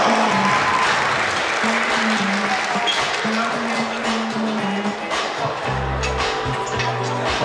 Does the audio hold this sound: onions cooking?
no